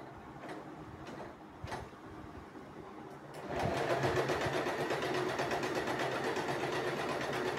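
An Usha Janome Wonderstitch sewing machine runs a zigzag stitch, starting with a few slow ticks and then settling into a steady, fast mechanical whir. It sounds close and continuous, with no voices.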